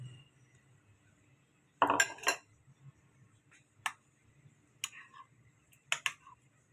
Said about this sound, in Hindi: अच्छी तरह से इसे मिक्स कर लें ताकि मसाले ज़ीरा वीरा नमक सब कुछ मिक्स हो जाए